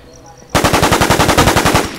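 A loud close burst of rapid automatic gunfire from The War Z video game fires about fifteen evenly spaced shots in quick succession after a quiet start.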